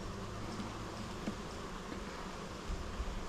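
Honey bees buzz steadily around an open Flow Hive during a hive inspection, a continuous close droning hum with occasional louder passes of individual bees.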